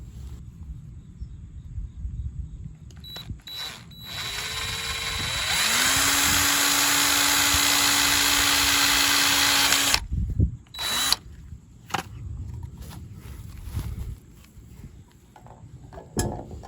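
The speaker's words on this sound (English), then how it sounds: "Now we can get a drill bit, drill that," A power drill bores a hole to mount a 3D printed truck part, whirring loudly and steadily for several seconds after a few short trigger bursts and handling clicks, then winding down.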